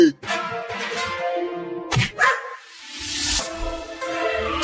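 A cartoon dog barks and yips in a comedy scene, with a few sharp barks breaking through overlapping voices and busy background sound.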